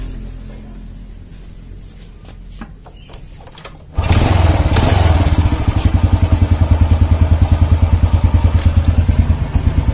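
A motorcycle that had trouble starting is cranked briefly, then catches and settles into a loud, close, steady rhythmic idle with fast even engine pulses.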